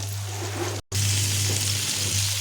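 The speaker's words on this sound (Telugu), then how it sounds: "ఇప్పుడు సొరకాయ ముక్కలు అవి ఇవన్నీ వేగినాయండి, గోల్డ్ కలర్కి వచ్చినాయి" Bottle gourd pieces fry in hot oil with a steady, close sizzle that runs without a break except for one very short dropout near the middle.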